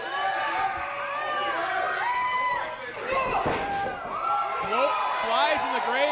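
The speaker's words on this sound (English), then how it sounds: "The loudness of the crowd actually has me tripping over my words." A wrestling event crowd cheers and shouts in a dense, loud roar, with excited whoops and overlapping voices throughout and a heavy thud midway.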